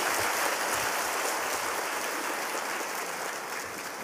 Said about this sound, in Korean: 우리 뜨거운 박수로 축하하며 환영합니다.